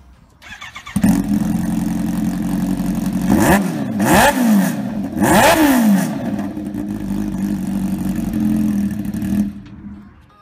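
A 998 cc, 305-horsepower superbike fires up and revs hard, with two sharp throttle blips rising and falling before it settles into a loud, steady idle close by.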